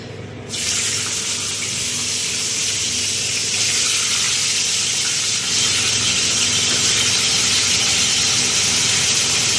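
Vegetables dropped into a hot pan set up a sudden loud, steady sizzle that starts abruptly and holds a continuous bright hiss to the end, close by and alone without talk.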